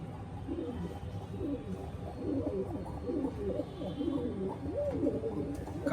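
Pair of Pakistani Teddy pigeons, a male and female, cooing close by in repeated soft, low, rolling phrases over several seconds.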